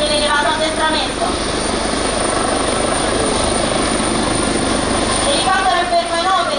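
An Italian Air Force rescue helicopter hovers overhead while a crewman is lowered, a loud, steady rotor and turbine roar with warbling tonal whine throughout.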